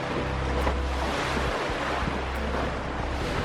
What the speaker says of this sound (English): So the wind, I guess it's blowing 15 to 18 from about 120 degrees.